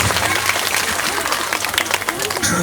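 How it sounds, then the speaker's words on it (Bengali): An audience applauds loudly at the launch of a school magazine, a dense, sustained burst of many clapping hands that fills the whole moment. "আপনারা সবাই মিলে একটু জোরে হাততালি দেবেন এই পত্রিকা উদ্বোধনের সাথে সাথে"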